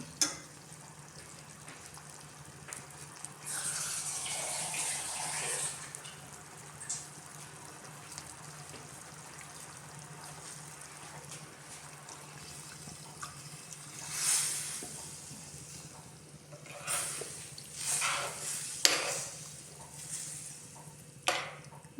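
Stingray curry sizzles and crackles steadily in a hot pan, with a splashy burst as water goes in early on and louder hissing spurts near the end.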